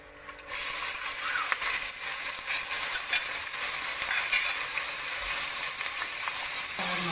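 Chopped onions and whole spices fry in hot ghee and oil in a pan for chicken biryani, a loud close sizzle that swells in suddenly and holds steady with occasional stirring scrapes, no voices.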